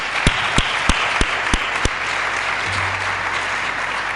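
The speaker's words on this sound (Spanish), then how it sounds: "Los despedimos con un aplauso." A conference audience applauds at the close of a panel discussion, a broad, steady wash of clapping from a crowd, with a few louder, sharply spaced claps near the microphone early on.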